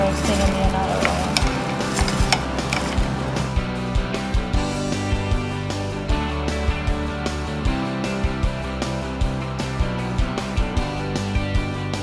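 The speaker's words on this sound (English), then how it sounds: "we're also going to roast it in the annatto oil." Salted eggplant cooks in annatto oil for Filipino kare kare, a steady loud sizzle with rhythmic clanks and scrapes of a utensil against the pan, continuing throughout over a low background hum.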